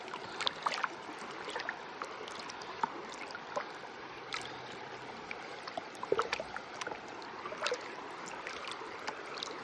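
Gold pan swirled and agitated in a flowing stream, water sloshing and trickling steadily with small splashes and clinks, close and fairly quiet over a continuous current.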